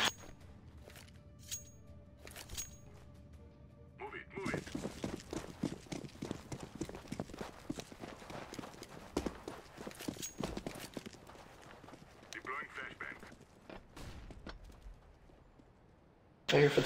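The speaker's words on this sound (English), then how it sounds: "I hear footsteps" Footsteps in CS:GO on the Dust II map, a fast run of close, clattering steps that fades out and then briefly returns, with sparse game effects and no voices in between.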